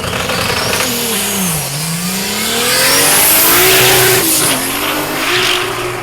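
A Volkswagen drag racing car launches and accelerates hard down the strip at Mason Dixon Dragway during the VW Nationals, its engine loud and close, climbing in pitch through shifts, with no voices.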